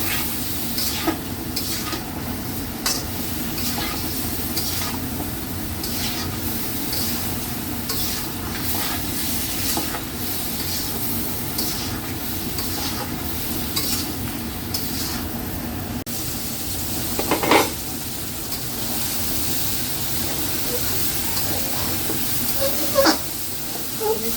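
Spice masala cooked down with vegetables and a splash of water in a pan for a koi fish curry with potato, eggplant and cauliflower, a steady hissing sizzle with frequent spatula scrapes and a few louder knocks.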